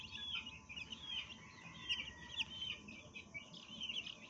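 Newly hatched chicks from incubated fighting-cock eggs peep in a steady, continuous chorus of high chirps, close by and moderately loud, with no talking.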